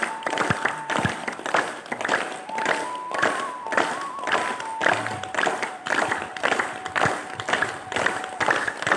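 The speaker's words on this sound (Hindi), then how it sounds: "ताली वादन।" A group claps hands in rhythm as part of a yoga session, a steady string of fairly loud claps with a sustained melodic tone underneath and no talk.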